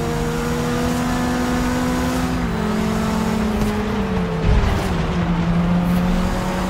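Engine of a 2016 Subaru in the racing video game Forza Horizon 4, driven on a desert track, holding a steady drone with shifting pitch, dipping briefly as the revs change, then settling again.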